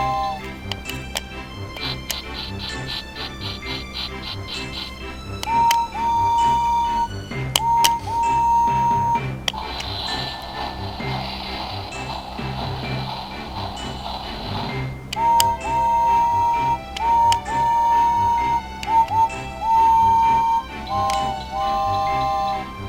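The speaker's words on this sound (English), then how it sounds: "And it also makes a good sound effect too, like a chugging sound or a whistle sound" Toy engine shed from the Thomas Wooden Railway set playing its sound effects: bright chiming tones and a whistle-like burst, with a steady chugging rhythm underneath and a noisy steam-like hiss in the middle, close and fairly loud.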